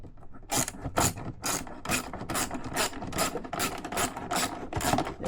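A clamp is tightened on a BMW E39 M5 during ABS and brake repair, producing a close, rhythmic run of about a dozen ratcheting bursts in steady strokes, with no talking.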